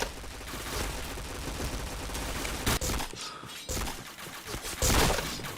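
Rapid bursts of gunfire from a mobile shooting video game crackle continuously, with repeated automatic volleys and short pauses between strings of shots, fairly faint overall.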